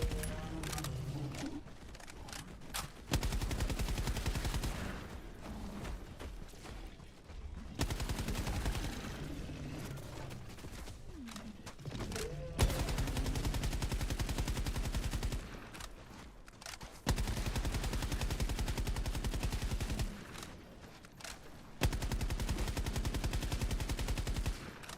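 Gunfire from the video game Helldivers 2, loud bursts of rapid automatic shots in several long sustained volleys separated by brief quieter gaps.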